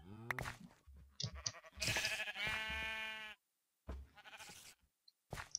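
Sheep bleating in the video game Minecraft: several wavering, nasal bleats in quick succession, one long drawn-out call in the middle, with short gaps of silence between bursts.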